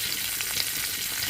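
Tempering spices crackling in hot oil for a raw tomato chutney, a dense continuous sizzle heard close and alone.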